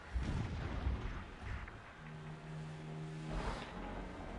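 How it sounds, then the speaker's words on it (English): Distant explosions in the video game Horizon Zero Dawn, deep rumbling booms rolling on at a steady level with a low droning hum partway through, heard alone without talk. "I'm pretty sure those explosions are going to concern me."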